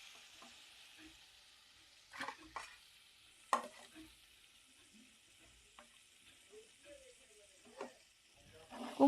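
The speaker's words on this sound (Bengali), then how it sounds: "কুমড়োটা ঢেলে দিলাম।" Pumpkin pieces tipped into a pan of hot oil and cooked spices, giving a faint steady sizzle with a few soft thuds and clatters as they land and are moved around.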